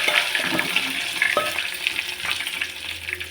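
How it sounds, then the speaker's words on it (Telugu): Garlic and ginger sizzle and fry steadily in hot oil, a continuous crackling hiss with a few brief stirring scrapes, no talking. "అవైతే నూనె వేడైంది కాబట్టి తొందరగా గొలుతుంది. ఇది ఎల్లిగడ్డ, అల్లం చూసిరా."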